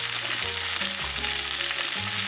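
Steady loud sizzling and frying fill a pan of mango chutney while half a spoon of coriander powder is stirred in, with faint scraping under the hiss throughout.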